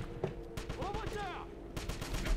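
Gunfire rattles in a castle level of the 2009 Wolfenstein video game, with sharp bursts that come and go in quick clusters while a player talks over the fighting.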